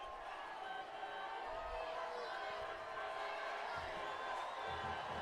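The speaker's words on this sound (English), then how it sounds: "Crowd getting louder." A high school football crowd late in a game, a steady roar of spectators that swells slightly, heard at a distance under a commentator's voice.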